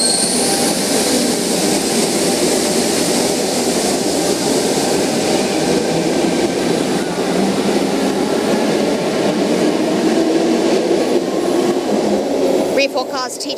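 A Sydney Trains T set departs a station platform with a steady, loud rumble of wheels and motors that holds for the whole stretch. A brief rattle comes near the end, and the roar drowns out any faint voices.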